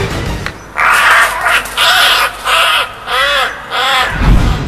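A crow caws repeatedly, six loud, harsh calls in an even rhythm with brief gaps between them, close and dominant over a background wash of wind or outdoor noise.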